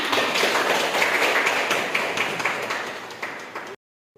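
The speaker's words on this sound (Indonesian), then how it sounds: "Iya, kasih tepuk tangan." A room of students clapping their hands together in a classroom, a dense, steady burst of applause that fades slightly before cutting off abruptly.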